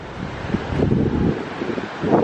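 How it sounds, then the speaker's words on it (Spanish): Wind gusting across an open beach on a blustery day, a steady broadband roar with swelling rushes and buffeting against the microphone, no voices. "creo que es muy ventoso hoy"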